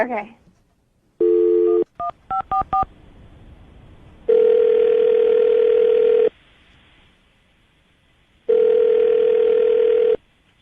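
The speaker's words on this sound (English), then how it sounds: "I'm gonna dial the phone number right now" A telephone number being dialed: a dial tone, then a quick run of separate keypad touch-tones, followed by two long steady ringback tones with a pause between. The sound is clear and close, and no one speaks over it.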